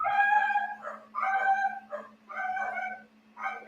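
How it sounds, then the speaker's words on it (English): Dogs howl in long, wavering, rising and falling calls, four drawn-out howls separated by brief pauses, near and clear over a faint steady hum. "That's the dogs."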